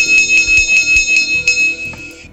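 Sound-module bell on an ACME 50843 Gran Confort WR restaurant car, a digital model train coach, striking about a dozen rapid, evenly spaced rings that blend into a sustained chime, loud and close, then cutting off abruptly.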